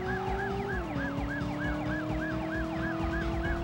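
Police car siren in the video game Driver, a loud, steady rapid wail cycling about four times a second over engine rumble, heard alone with no talk.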